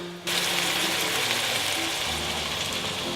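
Ingredients sizzle and fry steadily in a hot pan, a loud, continuous crackling hiss that starts abruptly and holds even throughout, close up with no talking.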